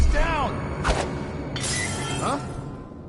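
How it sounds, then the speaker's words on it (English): Glass shatters in the stealth game Dishonored 2: a bright crash near the start, then further breaking bursts scattered over a few seconds, with speech-like game chatter around them. "That sounded like broken glass."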